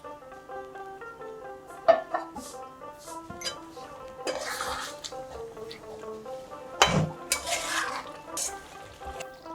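Chicken rezala being stirred and sautéed in a pot: a spoon scrapes and clinks against the metal in irregular strokes over a soft sizzle, close by, with a steady tonal hum underneath.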